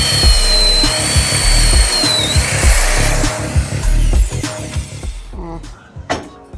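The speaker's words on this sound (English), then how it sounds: "we drill a hole for the" A drill bores a 3/8 hole through a lamp part to pass the cable: a loud, close grinding whir with uneven bursts as the bit bites, easing off toward the end.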